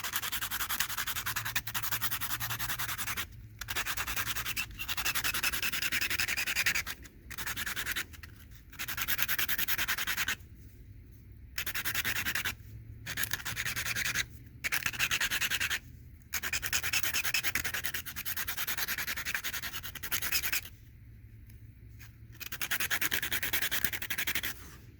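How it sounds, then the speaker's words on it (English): A flintknapping flaker tool is sharpened by hand, used while working Hixton quartzite: steady, close abrasive rubbing strokes in bursts of a few seconds, broken by short pauses, with no talking. "I'm going to sharpen the flaker so I can get to that tip"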